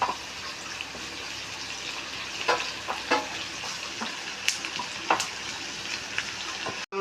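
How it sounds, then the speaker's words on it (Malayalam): Onion, ginger, green chilies and curry leaves fry in hot oil for an egg curry, giving a steady close sizzle with occasional scraping stir clicks and no talk. "ഒരു കഷ്ണം ഇഞ്ചി ചെറുതായി അരിഞ്ഞത് ഒരു മൂന്ന് പച്ചമുളക് വേപ്പില കുറച്ച് ഉപ്പും കൂടി ഇടാം നന്നായിട്ട് ഫ്രൈ ആവട്ടെ"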